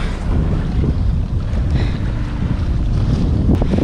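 A sailboat motors under engine through the Swedish archipelago, giving a steady low rumble mixed with constant wind buffeting and water rush, with no voices.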